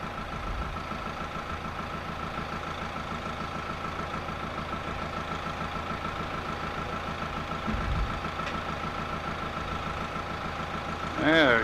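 A tractor engine idles and rumbles steadily in soft-ground maple woods during sap collection, a continuous mid-pitched drone that stays up close throughout, with a brief louder knock near the end.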